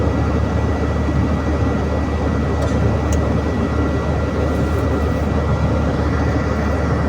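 An elevated MRT train passes overhead near SM Santa Mesa, a steady loud low rumble filling the whole stretch without letup and no voices.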